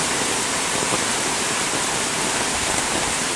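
Heavy rain from a storm drumming on a corrugated metal roof, a dense, steady hiss that stays loud and unbroken throughout with no pauses.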